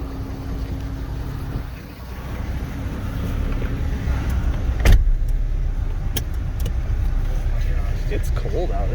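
A Jeep Cherokee XJ drives along with a steady, loud interior road and engine rumble, a brief swell midway, and muffled voices underneath.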